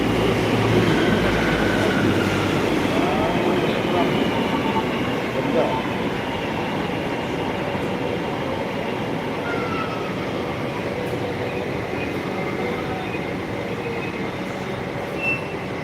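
A Hong Kong subway train rumbles and rattles steadily as it rolls into the station, with wheels squealing faintly and a voice talking briefly.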